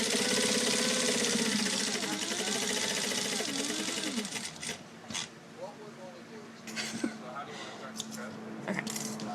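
A sewing machine stitches around the corner of a bag while a zipper pocket is added to its outside, running steadily at first and then fading into lighter, intermittent stitching and handling noises. Someone talks over it.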